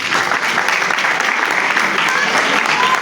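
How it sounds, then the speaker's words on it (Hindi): An audience at a school farewell party breaks into loud, continuous clapping that holds steady throughout. "सबसे पहले तो इनके लिए एक ढेर सारी ताली बजा दो भाई"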